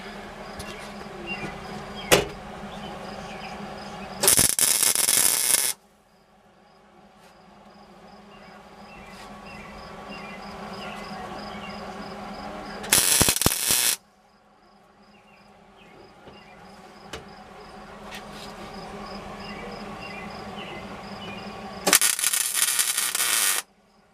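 Welding a replacement floor panel into a Jeep XJ: three loud, separate bursts of buzzing, crackling arc, each lasting a second or two, with quieter garage ambience and faint clatter in the gaps between them.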